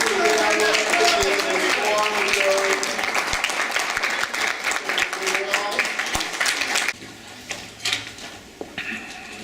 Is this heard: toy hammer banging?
no